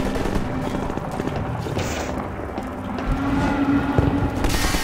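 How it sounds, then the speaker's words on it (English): Dense gunfire from the Half-Life 2 video game keeps up throughout in a steady, busy wash of shots and rattling mechanisms, with no talk over it. "the shooting's really coming. Shut up with the guns!"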